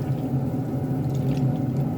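Soy sauce is poured onto chicken in a cooking pan for adobo, a steady, continuous liquid pour with a low sizzling wash, close and without talk.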